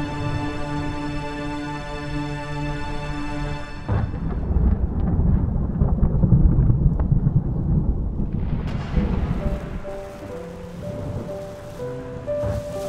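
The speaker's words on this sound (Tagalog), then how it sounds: "The rain." Rain and a thunderstorm give a deep, rolling rumble and broad wash of noise, framed by sustained musical tones before and after.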